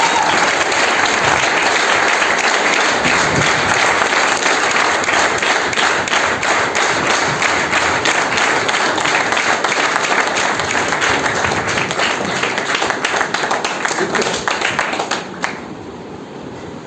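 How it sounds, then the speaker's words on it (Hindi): A large seated audience at a mentorship talk claps loudly and continuously for a wedding anniversary, dense even applause that holds for around fifteen seconds before tapering off sharply at the end. "जोरदार तालियां पर जोरदार।"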